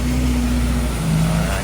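Lifted off-road jeep from a jeep club drives through floodwater, its engine a steady close drone with a rising tone over rushing water.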